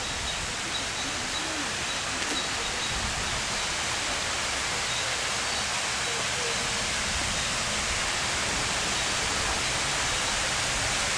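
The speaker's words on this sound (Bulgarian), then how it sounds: "Тук водопадчета." Small waterfalls at Longwood Gardens give a constant, even rush of falling water that holds steady throughout without pause.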